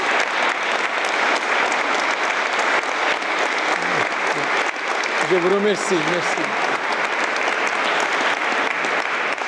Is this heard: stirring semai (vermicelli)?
no